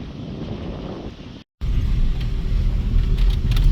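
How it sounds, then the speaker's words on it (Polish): Loud, steady wind roars and buffets the microphone as a low rumble, broken by a brief moment of silence before the gusting resumes. "bardziej przeszkadza wiatr, który strasznie wieje"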